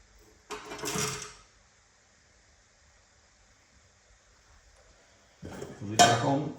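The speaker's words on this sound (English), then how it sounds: "So we drop all the bits and pieces in here." Small carburetor parts from a 2023 GasGas MC50 50cc dirt bike are dropped into a warmed ultrasonic cleaner, giving two short metallic clattering bursts several seconds apart with near silence between them.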